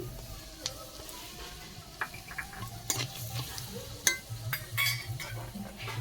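Whole dried red chillies and cumin seeds crackling in hot white oil in a kadai, a faint steady sizzle broken by light spatula stirs and scattered metallic taps and pops.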